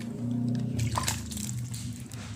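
Vitamin B1 solution poured over an aglaonema houseplant and its leaves, a steady close splashing and trickling of water that runs without pause, with no talk.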